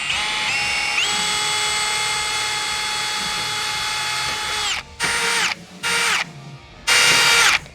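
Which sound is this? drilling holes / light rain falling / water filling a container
drilling holes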